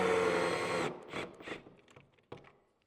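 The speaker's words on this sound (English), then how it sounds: "I like to use a drill when I'm doing these pocket screws" A power drill whirs steadily for about a second driving pocket screws into a walnut sideboard, then stops, followed by a few short clunks and handling noises.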